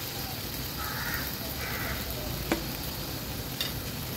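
Chopped shevla and bondgya leaves cooking in oil with masala paste for shevla and sodyacha sukka, a steady dense sizzle with faint stirring scrapes and a couple of sharp clicks of a spoon against the pan.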